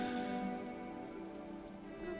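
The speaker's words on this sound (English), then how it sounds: "was it always raining in Greymore?" Steady rain falls in Greymore in the video game Hollow Knight: Silksong, a faint, even patter that continues throughout with a soft tonal backdrop and no talking.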